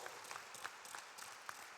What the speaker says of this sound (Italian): un applauso va ai genitori assolutamente